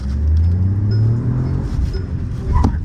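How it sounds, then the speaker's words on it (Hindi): A Mahindra XUV 3XO pulls away from first gear, its engine rumbling low and loud with a rising tone before it eases off, heard close from inside the car. "हाँ अब इसको हम उठाएंगे फर्स्ट गियर से गाड़ी को।"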